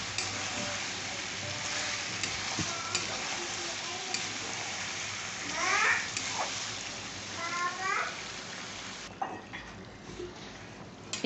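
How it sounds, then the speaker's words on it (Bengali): Meat being stir-fried for kosha in a pan, a steady close sizzle with occasional scrapes and knocks of a spoon, while someone talks and other voices speak faintly in the background. "এই যে মাংসটা প্রায় কষা কষা হয়ে গেছে"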